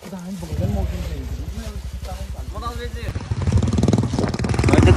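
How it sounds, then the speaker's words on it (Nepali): A single-seater motorcycle engine putters with a rapid pulsing beat, revving louder toward the end, while a voice talks over it. "यता फेरि सिङ्गल सिटर बाइकको कमाल"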